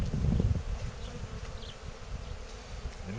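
Honey bees swarm and buzz continuously around an opened Dadant hive during an inspection, a close, dense drone with rustling and handling thumps up front.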